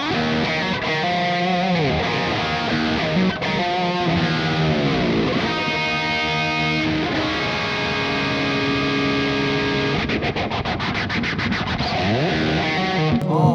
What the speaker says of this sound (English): That was a phaser, friends. This is the MXR phaser